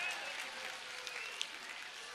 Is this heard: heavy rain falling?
no